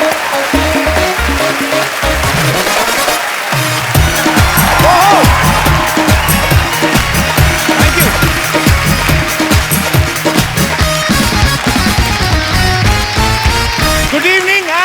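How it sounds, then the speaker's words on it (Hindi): Studio audience applause and cheering on a comedy talk show stage, loud and continuous for the whole stretch with music underneath, dense clapping filling the room. "तालियां"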